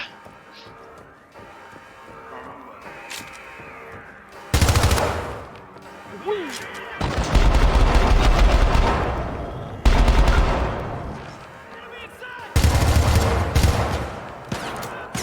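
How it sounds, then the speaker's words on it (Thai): Automatic rifle fire in the video game Syndicate, loud sustained bursts of rapid shots in several volleys separated by quieter game ambience, with no talk. "โดยการยิงมันจะมีอยู่2โหมดนะครับโหมดแรกก็คือยิงอัตโนมัติ"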